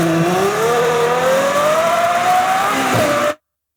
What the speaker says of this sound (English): It's a Ferrari V12.